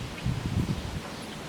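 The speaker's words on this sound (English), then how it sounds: "it's windy out, so sorry about this" Low, steady buffeting wind noise rumbling across a microphone outdoors, with gusts swelling briefly and no voices.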